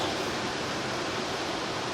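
Water running through a sewer line at the far end of a house, where old pipe gives way to cast iron, heard as a steady, dense, hissing rush with no breaks.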